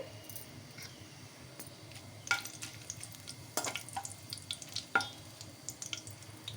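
Spices tempering in ghee in a pan for a capsicum potato fry, a faint, quiet sizzle with occasional sharp clinks and stirring taps.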